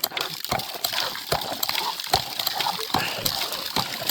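Water splashes and gushes onto the ground in uneven spurts as a newly installed Sandpoint hand pump well is worked, with a rhythmic clank on each pump stroke close by.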